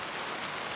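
Steady, dense rain drums on a tent during an ice camping storm, a constant close patter with no gaps.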